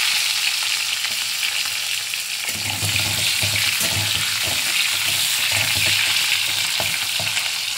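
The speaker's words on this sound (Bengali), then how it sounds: "কালো জিরেটা একটু ভাজা হয়ে গেলে একটু টমেটো কুচি দিয়ে দিলাম।" Chopped tomato hits hot oil already tempered with black cumin, raising a loud, continuous close sizzle with intermittent stirring knocks.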